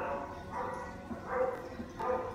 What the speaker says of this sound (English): And why is your dog barking?